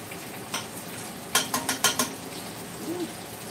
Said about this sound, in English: I am going to add all this mixture into this pot now. Just put everything in there.